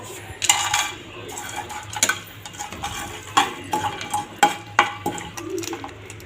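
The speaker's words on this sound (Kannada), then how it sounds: "ಈಗ ತುಪ್ಪದಾಗ ಸ್ವಲ್ಪ ತುಪ್ಪ ಹಾಕ್ಕೊಂಡು ಡ್ರೈ ಫ್ರೂಟ್ಸ್ ಎಲ್ಲ ಹುರ್ಕೊಂಬಿಡೋಣ್ರಿ" Dry fruits frying in ghee in a pan, with repeated sharp clinks and scrapes of a metal spoon stirring against the pan over a soft background sizzle, close and fairly loud, no talking.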